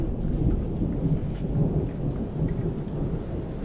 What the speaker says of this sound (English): Thunder lightning's here.